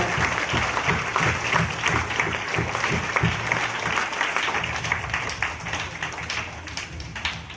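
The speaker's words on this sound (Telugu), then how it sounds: "ఒక్కసారి అందరం దేవునికి చప్పట్లతో వందనాలు తెలియచేద్దాం" A congregation at St Anthony's Mass in Infant Jesus Church, Thallacheruvu, claps together in a long, lively round of applause with crisp individual hand claps, steady and full from start to finish.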